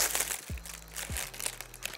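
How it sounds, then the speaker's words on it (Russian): A foil or plastic baking bag of pumpkin couscous is torn open after coming out of the oven, a close, crisp crinkling and crackling with two sharp tearing pulls. "Я очень люблю, когда у меня есть шанс открывать эти пакеты после духовки"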